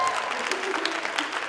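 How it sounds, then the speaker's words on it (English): A crowd at an international day event in a hall claps in a brief, steady round of applause, moderately loud and continuous. "I think we need to give Janet a round of applause"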